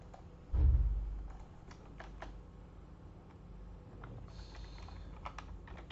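Quiet, close typing on a computer keyboard while writing a set analysis expression, scattered soft key clicks over a low hum after an initial dull thump.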